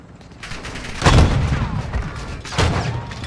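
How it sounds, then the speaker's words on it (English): Very loud gunfire in a shooter video game, two heavy booming shots about a second and a half apart, each with a sharp crack and a lingering echoing tail. "Now we found the second loudest gun in this game."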